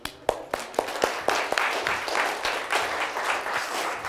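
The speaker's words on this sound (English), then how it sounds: "a round of applause" A few sharp individual claps start a round of applause from a small audience at a sales talk, quickly thickening into a steady patter of clapping.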